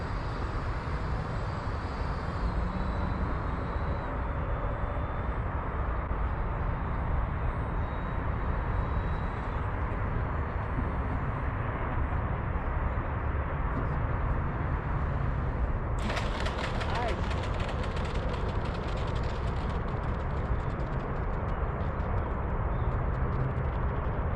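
An electric RC plane is flying overhead with full landing flaps deployed, a steady whirring motor and wind rush holding at a constant level throughout, with a brief crackling burst partway through.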